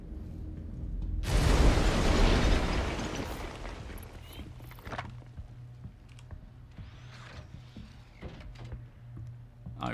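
A heavy explosion in the Star Citizen space game during an org mining operation: a sudden loud roaring blast that rumbles for about two seconds, then fades into low ambient hum with scattered faint clicks.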